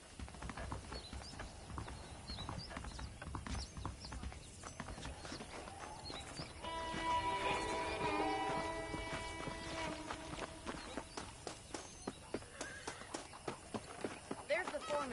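Horse hooves clip-clop at a walk in the Western video game Red Dead Redemption, irregular steps in a steady rhythm, with a brief mechanical rattle in the middle and voices talking over much of it.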